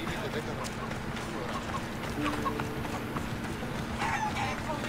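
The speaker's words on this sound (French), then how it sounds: "Hop, on va appeler le cheval." A horse is called and gallops in the video game Assassin's Creed Odyssey, with rhythmic clip-clop hoofbeats running steadily under game ambience and a talking voice.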